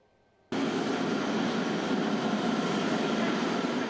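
A Washington metro subway train roars in abruptly after a brief quiet moment, then holds a loud, steady broadband rumble close by for the rest of the stretch, with no voices.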